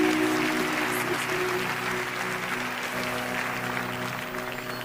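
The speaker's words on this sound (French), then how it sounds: "Let's applaud" A large audience claps continuously, a dense even wash of applause that holds steady throughout and tapers slightly toward the end.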